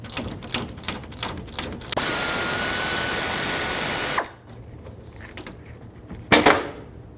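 A 12mm wrench works loose the AC line fittings on a 2003-2008 Subaru Forester, opening with a run of close ratchet-like clicks, then a harsh steady grinding rasp for about two seconds, ending with a sharp metallic clank.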